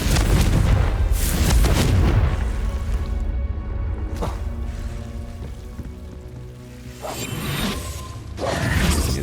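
Confringo fire spell cast in the video game Hogwarts Legacy, heard as whooshing, booming explosive bursts with mechanical rumbles in a cellar, one loud blast at the start and another near the end.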